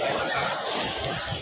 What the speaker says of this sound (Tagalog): Tumutulo yung tubig galing dyan, oh.